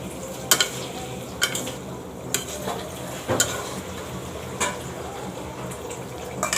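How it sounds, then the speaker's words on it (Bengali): Tomatoes go into a pan of sizzling spice paste, with a soft continuous sizzle broken by several sharp stirring scrapes and clatters at irregular intervals. "মশলাটা কষে এসেছে, এবার এর মধ্যে দিয়ে দেব টমেটো।"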